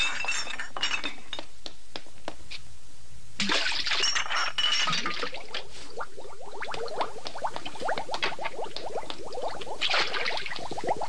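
Water splashing and gushing from a hand pump in a dubbed cartoon, bursts of splattering liquid with clinks and sharp repeated pumping strikes, fairly close, with no talking over it.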